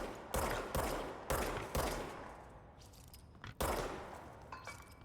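Gunfire in the video game Control as cameras are shot: four heavy, close gunshot bursts with booming tails and gaps between, then a fifth blast after a brief pause.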